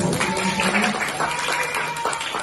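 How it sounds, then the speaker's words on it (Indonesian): Classroom audience clapping for students during a teacher's lesson in Makassar, a steady broadband patter of hands that holds for a couple of seconds at moderate level with some voices mixed in. "Tepuk tangan dulu buat kalian."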